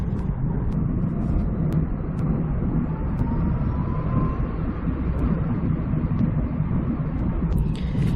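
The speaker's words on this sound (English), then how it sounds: "Every electric car has a virtual engine sound when you drive with low speed." A Chinese EU7 electric car drives at low speed, its artificial warning tone a faint rising whine over a constant low rumble of road and cabin noise, with no voices.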